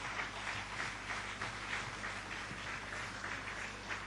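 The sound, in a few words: applause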